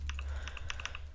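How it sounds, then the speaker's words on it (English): Simulated mechanical keyboard typing from Mechvibes software set to the cream switch profile, played while gaming Bedwars: a quick run of about ten crisp, clacky keystrokes in uneven rhythm, close and clear with no talk. "use different keyboard sounds. I'm using the creams because I like them the best."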